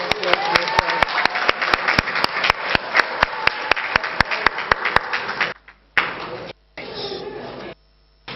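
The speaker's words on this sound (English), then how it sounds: "Big round of applause." A crowd at an African coffee symposium applauds with dense clapping and a few sharp taps, then the clapping breaks off into short bursts and gaps.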